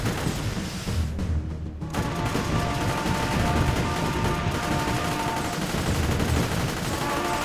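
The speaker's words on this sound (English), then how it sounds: "So that sound is the flak gun machine guns are shooting." Dense, continuous rapid gunfire from flak tower machine guns in the tower defense game M.A.C.E. rattles without a break, with a game-like layered background and no speech.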